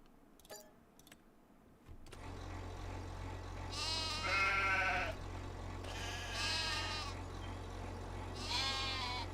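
Sheep in the Farming Simulator 25 video game bleat in three drawn-out, wavering calls at fairly close range over a steady low hum, with a few clicks at the start.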